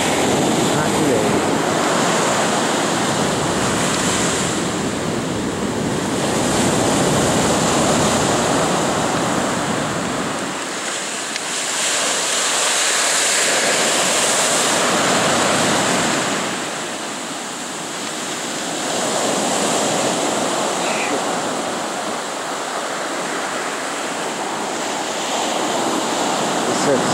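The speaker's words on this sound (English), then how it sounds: "don't let the wave get you" Ocean waves breaking on a beach in wind, a continuous roaring wash of surf that swells and recedes in slow surges, loud and close, with wind buffeting the microphone.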